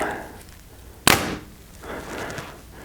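A single sharp, loud release as a Mathews V3X 33 compound bow, 70-pound draw and 30-inch length, fires a 440-grain arrow, followed by a brief fading hum in quiet surroundings.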